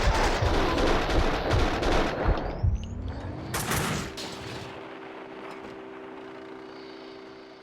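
Rapid bursts of gunfire in the shooter game Max Payne 2, loud and dense in the first few seconds, then fading into a lingering tonal ring and quieter background.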